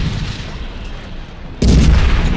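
Gunfire aimed at a tank in a prototype video game: a low rumbling bed that suddenly jumps into a loud, dense burst of booming shots around the midpoint, continuing heavily to the end.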